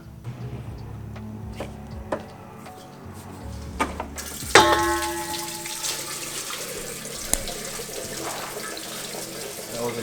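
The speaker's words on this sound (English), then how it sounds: "now that we've gotten the whole radiator and cooling system drained" Coolant draining out of a 2008 BMW 328i radiator, a close splashing, gurgling stream pouring into a container, with small metallic clinks and knocks throughout.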